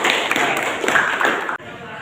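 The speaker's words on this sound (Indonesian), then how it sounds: "Beri tepuk tangan." Classroom applause: a short burst of several hands clapping in a room, dense and fairly loud for about one and a half seconds, then cutting off abruptly into quiet room tone.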